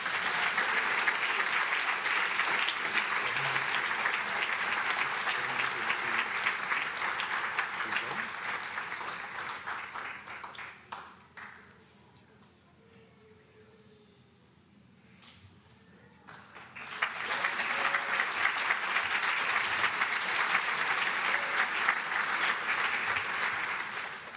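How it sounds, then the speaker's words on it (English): Audience applause at a Space Camp robotics graduation ceremony: steady, loud clapping that fades to near quiet midway, then swells back to full, sustained applause. "One more round of applause."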